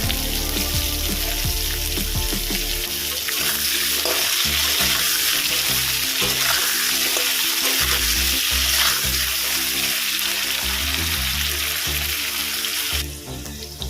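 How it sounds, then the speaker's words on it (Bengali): Potatoes fry in hot oil with a loud, continuous crackling sizzle, punctuated by occasional stirring clinks, steady throughout before easing at the end. "এই তেলের মধ্যে আমি আলুগুলো ভেজে নেব"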